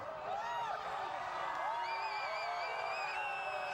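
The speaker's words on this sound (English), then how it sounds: "People are cheering." A crowd cheers and whoops at a distance as the August 2017 solar eclipse reaches totality, with a steady wash of voices, high whistling tones and speech on top.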